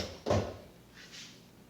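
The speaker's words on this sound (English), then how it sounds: "Let me pull some of these drawers out." Drawers slide out on 500-pound lock-in, lock-out slides in a custom Jeep overlanding kitchen: one sharp, close clunk followed by a fainter, softer slide a moment later.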